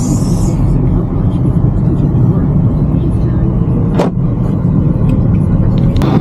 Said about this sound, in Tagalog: Marami ka lagi rito sasakyan.